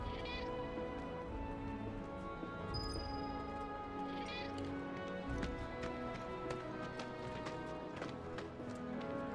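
A cat in the slums of the Final Fantasy VII Remake video game gives a couple of short meows, soft and somewhat distant, over a busy ambient backdrop of game sound and faint clattering.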